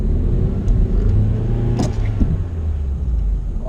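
A manual transmission car drives in snow as its engine rumbles loud and close, with low droning revs and a few clunks and thumps as the clutch is popped.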